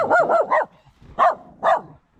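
An angry dog in Raguva barks sharply at close range, a rapid burst of three barks followed by two spaced single barks, loud and alone with no talk.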